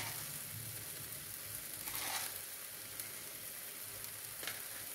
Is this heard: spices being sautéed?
yes